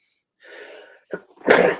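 A single sneeze: a short breathy intake, a sharp catch, then a loud explosive burst, close and alone.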